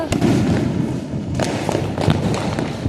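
Loud crackling bursts and thumps of Diwali firecrackers pop repeatedly and irregularly close by, with voices faintly underneath.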